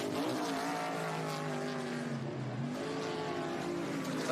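A pack of race cars at Laguna Seca roars toward the line, running nearly four wide, their engines a loud, sustained, blended drone with shifting pitch and no voices over it.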